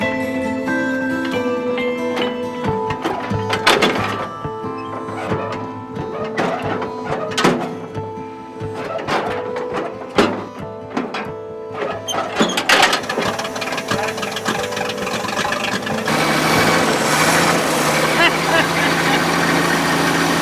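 An old NTI truck engine is hand-cranked, turning over with uneven clanks and knocks before catching and settling into a steady running roar, with voices nearby.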